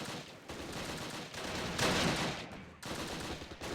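Dense infantry gunfire crackles through a battle in the wartime strategy game Close Combat: rapid, overlapping bursts of rifle and machine-gun shots, loud and continuous, swelling to a heavier barrage midway with no voices.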